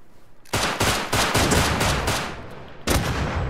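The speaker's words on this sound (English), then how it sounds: "I missed a whole mag!" Rapid automatic gunfire in the video game Rust, a long loud burst of closely spaced shots emptying a full magazine, breaking off briefly before one more volley resumes near the end.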